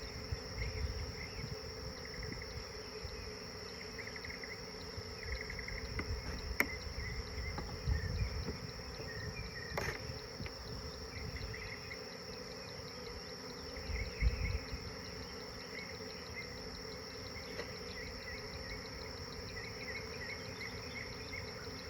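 Honeybees hum in a low, steady drone as they are gently dropped into a hive box outdoors, joined by faint insect chirring, with a few louder swells and no talk.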